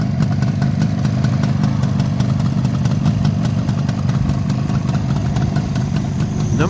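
Vintage Suzuki GT250 motorcycle with its two-stroke engine running, a close, loud, rapid and steady idle with a rattling, clattery beat.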